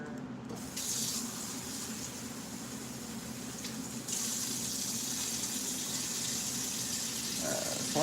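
Water runs steadily from a kitchen tap for cooking, measured out as two cups, a constant close gush with a brief stronger surge midway and no talking.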